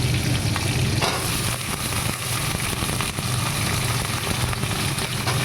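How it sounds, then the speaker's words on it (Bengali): Bitter gourd fries and is stirred in a pan with other vegetables, making a loud, continuous sizzle close by. Faint scraping of the stirring comes through now and then, and no one talks. "এই দেখুন একটু একটু করে আমি নাড়াচাড়া করছি"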